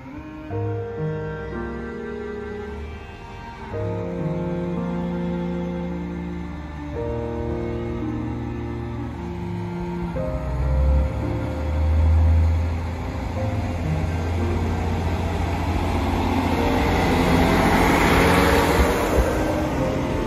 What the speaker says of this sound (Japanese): さあ普通列車発車していきます